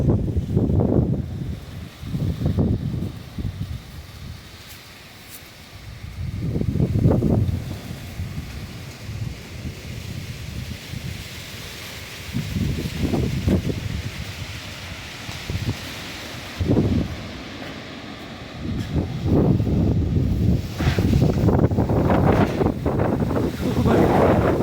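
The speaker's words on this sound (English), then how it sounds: "Can't believe how windy it is." Strong gusty wind buffets the microphone outdoors at a small stadium, surging in loud low roaring bursts with rustling between gusts, alone and continuous throughout.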